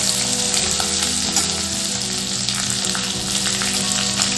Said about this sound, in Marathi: हिरव्या मिरचीची आणि आल्याची पेस्ट टाकते। तेला छान आपण आता परतवून घेऊ।